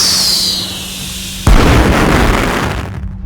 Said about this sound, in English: Attach a button repeater to a reaction slot and target horns and fireworks.